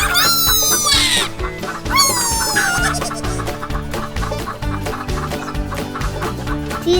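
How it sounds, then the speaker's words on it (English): Farm chickens cluck and squawk loudly and continuously at close range, with repeated rhythmic calls and a few rising cries over a busy barnyard background. "Look at the chickens."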